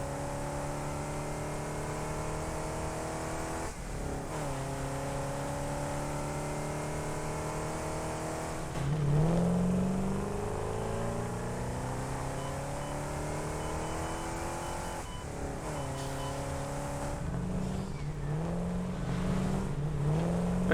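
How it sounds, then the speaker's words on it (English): A vehicle engine in the factory-building game Satisfactory drones and revs in long rising and falling sweeps, climbing in pitch several times, loud and steady with no voices. "I love how the engine is revving up even though the speed isn't going up."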